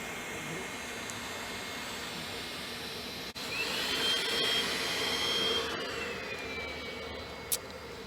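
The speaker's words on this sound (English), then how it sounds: "My husband is busy at work blowing up all of the tubes that we brought along" An electric pump whines steadily up close while inflating tubes for a kids' birthday party, with a brief break in the middle before the constant airy drone carries on.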